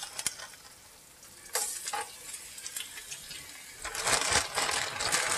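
Squash drops into melted grease in a pan and fries with a steady bright sizzle, with a few clinks and scrapes of a utensil, growing louder and denser in the last seconds.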